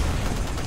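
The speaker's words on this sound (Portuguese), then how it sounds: "Acertei vários tiros nele, mas ele não morreu." Gunfire from Titanfall multiplayer on Xbox One, a short, dense burst of loud, crackling shots packed closely together with no pause.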